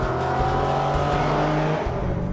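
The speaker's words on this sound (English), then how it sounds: "the exhaust note on the G37 sounds better than the 370Z" An Infiniti G37S V6 engine and exhaust drone steadily and loudly under acceleration, with a sustained low tone that holds close throughout.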